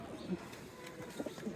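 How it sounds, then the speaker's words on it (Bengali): Two young pigeon chicks coo softly and faintly close by, with low murmuring calls under a quiet, noisy background. "কবুতরের বাচ্চা।"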